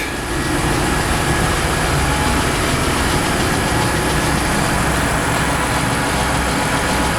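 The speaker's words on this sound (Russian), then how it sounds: "двигатель прогрелся у нас до 84 градусов, обороты уже 700 практически" A Mitsubishi Pajero 3 GDI engine idles steadily after warming up, around 700 to 900 rpm, with a low, rumbling drone and constant mechanical vibration, close and unchanging, with no voices.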